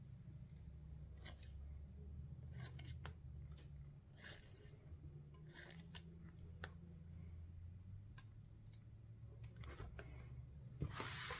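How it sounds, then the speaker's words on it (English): A few quiet, crisp scissor snips at a craft table, scattered as short separate cuts over a low steady hum, with no talking. "I'm just going to make a few snips."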